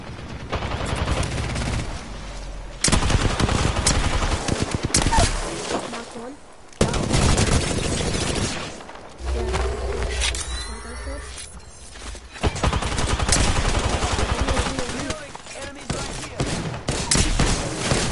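Video game weapons fire in long rattling bursts and volleys, sustained for seconds at a time with brief pauses, loud and close, with occasional voice chat mixed in.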